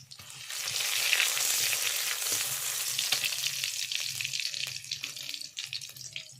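Bay leaf dropped into hot oil for aloo dum gives a loud, rushing sizzle that surges at once and then settles into steady, crackling frying.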